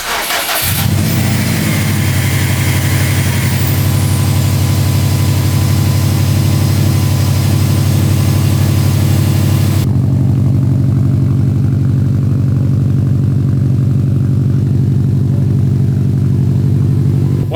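A Subaru STI with a carbon fiber intake, freshly reflashed to a Stage 1 tune, starts up and settles into a steady, loud, throbbing idle that continues unbroken, heard close and alone.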